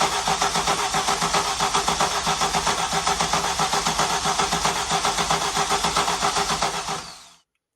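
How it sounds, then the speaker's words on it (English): A 1991 Audi 20V Avant's inline-five engine cranks steadily without catching, the starter's rapid rhythmic chugging loud and close for about seven seconds before cutting off. "as you can see in that last scene, the car is not starting"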